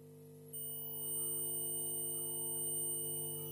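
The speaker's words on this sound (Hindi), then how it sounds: "ताकि आपको ये बीप साउंड का आवाज जो आ रहा है ना वो भी सुनाई देगा।" A steady continuous electronic beep from a multimeter on continuity mode while testing a MOSFET on an Intel motherboard during short-circuit repair, starting after half a second and holding unbroken over a low constant hum.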